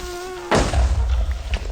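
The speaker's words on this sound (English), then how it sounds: "an explosion" An explosion in the Horrifeye video game cuts off a thin high buzzing tone with a sudden loud burst, followed by a deep rumbling roar and scattered thuds.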